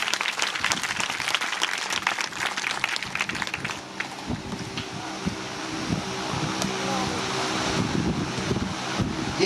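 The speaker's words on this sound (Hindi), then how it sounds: "एक बार ताली बजाएं परमेश्वर के लिए" Congregation at a Sunday church dedication meeting claps for God, a dense steady applause filling the room for several seconds, with a little background hum and faint voices beneath.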